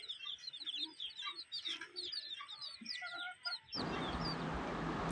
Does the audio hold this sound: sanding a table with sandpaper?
no